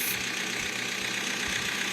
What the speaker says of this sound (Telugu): లంబర్గిని ట్రాక్టర్